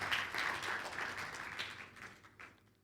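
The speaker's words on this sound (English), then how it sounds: "can we have a big round of applause for Bala for starting this initiative?" An audience at an indoor event applauds, a soft spread of clapping that swells at first and gradually thins and fades toward the end.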